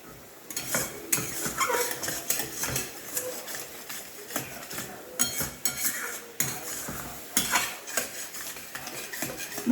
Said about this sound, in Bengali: মশলাটা যেহেতু লেগে যাচ্ছিল আমি সামান্য একটু গরম জল দিয়েছি, দিয়ে আর একটু কষাচ্ছি।